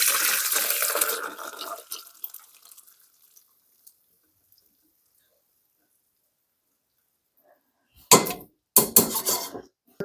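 Ginger cooking water being strained: a splashing pour that tapers off into silence with a few faint drips, followed by two short bursts of clattering and pouring near the end.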